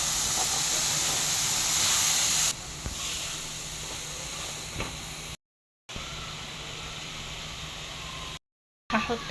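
Green peppers hit a hot pan already holding softened onions for homemade shawarma, a loud close steady hiss of sizzling that drops in level partway through and carries on with no talk.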